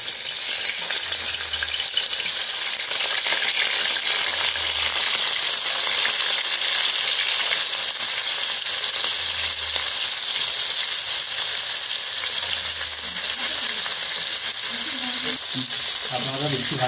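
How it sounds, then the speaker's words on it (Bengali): Shrimp fry in hot oil with a loud, continuous close-up sizzle, punctuated by occasional stirring scrapes and low clunks of the utensil against the pan, with no speech. "তেল গরম হয়ে গেছে, আমি হালকা করে চিংড়ি মাছটা ভেজে নেব।"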